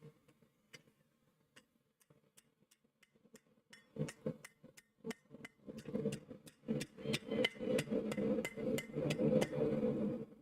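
A hammer forges hot iron into a small socket in a smithy, sharp metallic strikes ringing at a steady rhythm, sparse and lighter at first, then quicker and heavier blows, with no talk.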